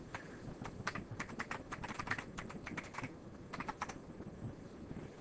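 Rapid, uneven clicking of a computer keyboard while a password is typed at a login prompt, close and fairly quiet, with short pauses between bursts of keystrokes.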